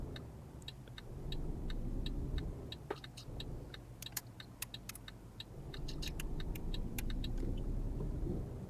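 A car passes on a road in Euro Truck Simulator near Marseille's industrial area, a steady engine rumble swelling and easing over a sharp run of repeated clicking ticks.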